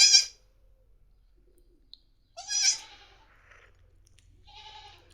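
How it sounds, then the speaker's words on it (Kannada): A young lamb bleats three separate times, each call short and wavering and heard close by. Near silence fills the gaps between bleats. "ಈ ಥರ ಆಯ್ತು ನೋಡ್ರಿ ನಮ್ಮ ಕುರಿ ಮರಿ."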